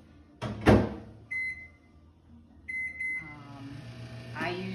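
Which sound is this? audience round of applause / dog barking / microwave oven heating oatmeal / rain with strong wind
microwave oven heating oatmeal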